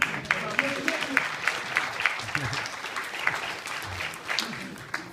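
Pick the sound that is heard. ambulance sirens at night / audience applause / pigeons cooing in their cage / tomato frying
audience applause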